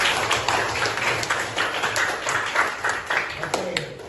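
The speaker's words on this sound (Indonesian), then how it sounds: "Oke, berikan aplaus dulu." Classroom applause, with students clapping in quick, uneven bursts through the whole stretch and voices mixed in underneath.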